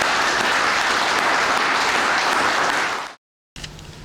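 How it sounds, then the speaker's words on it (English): An audience at a fire department recognition event applauds firefighters with loud, dense clapping that holds steady for about three seconds, then cuts off abruptly before a brief faint tail. "So another nice round of applause for these people."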